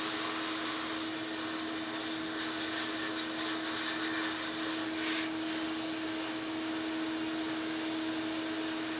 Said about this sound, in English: You can see it sandblasting the inside of this cylinder head.